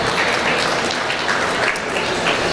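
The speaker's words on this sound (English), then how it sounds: "Give a round of applause to all of these dairy goat exhibitors here today in the ring." Sustained applause from the crowd around the show ring at a dairy goat show, a steady dense wash of many hands clapping throughout with no talk.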